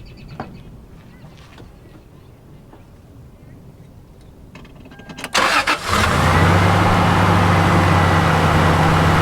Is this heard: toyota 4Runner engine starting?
yes